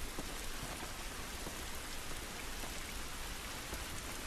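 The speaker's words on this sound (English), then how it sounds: "And it's pouring with rain." Heavy rain pours steadily in The Last of Us Remastered, a dense, even wash of drops on surfaces that holds throughout at moderate level with no talk.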